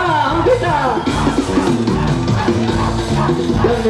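A crowd at an outdoor concert in Balsas yells and cheers loudly over amplified music for several seconds.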